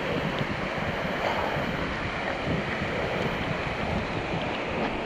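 Continuous loud rush of turbulent water from a waterfall where a man swims on a Vietnam motorcycle trip, a steady broadband roar filling the whole clip with no voices.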